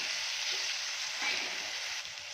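Chili and garlic paste frying and being stirred in oil, a soft continuous hiss with faint scraping under it, close and steady throughout.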